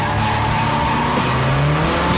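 A Nissan S14 and a Nissan Skyline drift side by side at a competition event in France, with loud engines roaring and tires screeching continuously.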